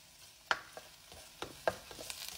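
Chopped onion and finely minced garlic in a pot with a little oil, heard as faint, sparse sizzling crackles and a few soft stirring taps rather than a steady fry.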